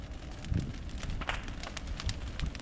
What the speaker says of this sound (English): You can hear how loud the crackling is.